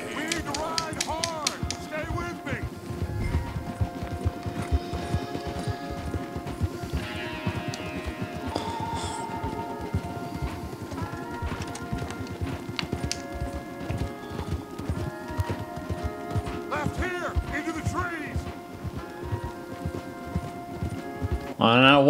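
Horses moving along a path in the Red Dead Redemption 2 video game: steady, rhythmic clip-clop of hooves throughout, close and clear, with characters talking over the hoofbeats.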